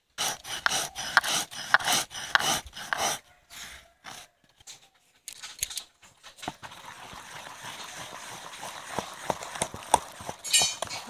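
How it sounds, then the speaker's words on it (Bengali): Oreo biscuits being crushed for a chocolate cake batter, a run of rapid, close crunching and grinding knocks that thin into softer, irregular scraping toward the end. "ওই অরিও বিস্কুট কটা গুঁড়ো করে নেব।"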